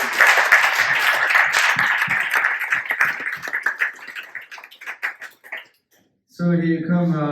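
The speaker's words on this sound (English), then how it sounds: "Please give a round of applause to Daniel again." Audience at a Web3 privacy talk applauding the speaker Daniel, clapping that thins and tapers into scattered claps before falling silent, followed by a voice speaking into a microphone.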